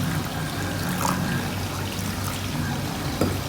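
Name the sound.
quarter glass of water poured into qeema mixture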